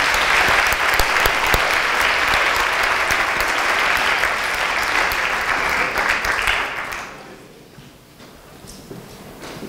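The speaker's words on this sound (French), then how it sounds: "On peut également applaudir l'ensemble des candidats qui ont participé à cet entretien de recrutement." Audience at an HR conference applauding the candidates of a mock recruitment interview: loud sustained clapping for about seven seconds that then fades into quiet room noise.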